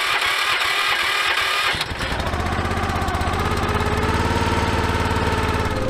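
A small gas engine on a log splitter cranks and fires up, settling into a loud, steady, rapid putter close by, alone without talk.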